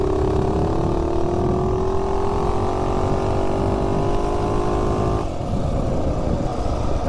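Mini bike fitted with a 46-tooth rear sprocket and swing arm kit accelerating from standstill to 30, small engine revving with a rising pitch that climbs steadily, then a sudden drop as the throttle eases, loud and close, no talk.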